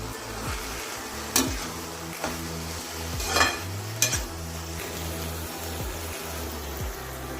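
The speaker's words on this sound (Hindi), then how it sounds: "आपको ये साग तब तक भूनना है जब तक ये तेल नहीं छोड़ दे" Waterleaf (talinum) greens being stirred and fried in oil in a pan, with a steady low sizzle, scraping spoon strokes and a few sharp clinks of utensil against the pan, close and without talk.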